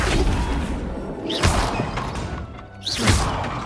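Two heavy magical impacts land in Hogwarts Legacy as the Flipendo spell strikes, each a whooshing boom with a thud, spaced about a second and a half apart over a dense, rumbling game soundscape.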